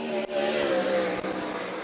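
A 410 sprint car runs a qualifying lap on a speedway, its engine a loud continuous roar with a strained high pitch, heard from trackside without a break.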